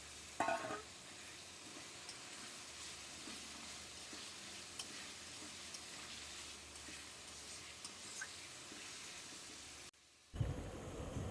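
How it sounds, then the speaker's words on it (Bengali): Chicken pieces fry and get stirred in a hot oiled pan, giving a steady, close sizzle with scraping stir noises that runs for about ten seconds before cutting off abruptly. "এবার আমি চিকেনগুলো দিয়ে দিচ্ছি"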